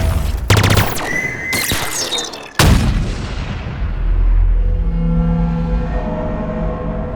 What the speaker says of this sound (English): They have like a 3-minute montage of various sound effects in Halo Infinite.